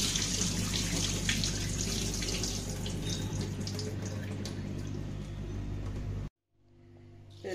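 Water pouring over washed lentils in a bowl for soaking, a steady splashing rush for about six seconds that stops abruptly, leaving a faint hum.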